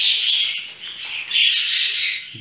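Young purebred Mubiş pigeon chicks near fledging, with steady, close high-pitched squeaky calls that run almost without a break, dip briefly and then swell again.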